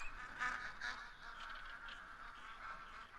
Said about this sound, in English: obviously you can hear the ducks in the background